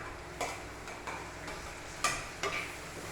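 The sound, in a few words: shallots, green chili, ginger and tomato sautéing in a clay pot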